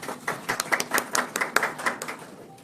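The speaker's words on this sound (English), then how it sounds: "Is it just me, or are those claps very, very timid?" Scattered, hesitant clapping from an audience at a contract signing ceremony: a thin patter of individual hand claps, steady and not very loud, without any cheering or talk.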